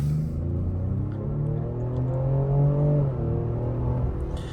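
A 2025 Ford Explorer ST engine accelerates hard, a loud, steady rising drone with deep harmonics building and swelling throughout, heard from inside the cabin with no talking.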